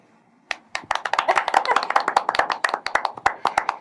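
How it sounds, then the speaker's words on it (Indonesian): A small group breaks into applause, a burst of sharp hand claps that starts abruptly and continues steadily, with voices mixed faintly underneath. "Kurang tepuk tangan"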